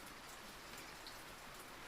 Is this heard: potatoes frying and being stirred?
no